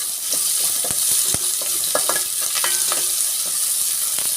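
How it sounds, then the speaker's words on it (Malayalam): Sliced onion, green chili and curry leaves sautéing in hot oil, a steady loud sizzle broken by a few sharp scrapes of stirring. "കുറച്ച് ഉള്ളിയും കുറച്ച് പച്ചമുളകും പിന്നെ കുറച്ച് കരിവേപ്പില ഒന്ന് നമുക്ക് വഴറ്റി കൊടുക്കാം"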